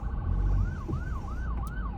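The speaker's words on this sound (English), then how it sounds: "I hate sirens, they scare me." A wailing emergency siren rises and falls in a steady repeating sweep, fairly close, over a low rumble of traffic.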